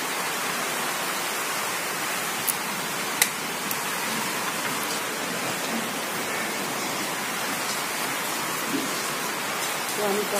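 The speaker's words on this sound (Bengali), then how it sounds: "প্রচণ্ড পরিমাণে বৃষ্টি।" Heavy rain pouring outside a home, a dense, steady broadband hiss lasting throughout with a few faint drips and ticks standing out.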